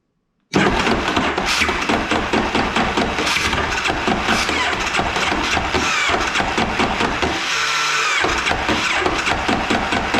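A Kodiak engine's starter cranks hard and continuously without the engine catching, a loud, rapid churning that begins abruptly and runs on for about ten seconds, briefly dipping near the end.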